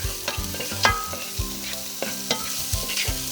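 Chili flakes and garlic sizzle in hot oil while a spoon stirs, with steady frying hiss beneath and several sharp scrapes and clinks against the pan, close and fairly loud, no voices.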